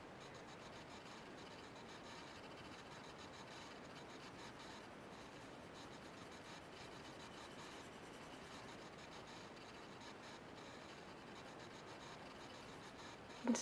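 Pencil lightly smoothing shading on paper while drawing, a steady, very faint dry rubbing that continues evenly with no talking.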